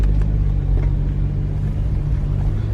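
A car with an XHP transmission tune pulls away in standard drive mode, a steady low engine rumble and drone heard from inside the cabin, continuous and fairly loud with no talking.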